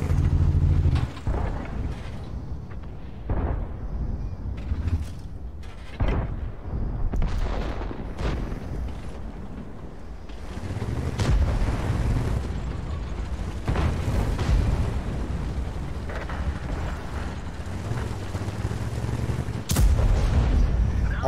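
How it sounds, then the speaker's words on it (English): Artillery fire in the tank game World of Tanks: a series of scattered booms and sharp impacts of varying loudness, spread across a rumbling battlefield background. "Fucking magic artillery."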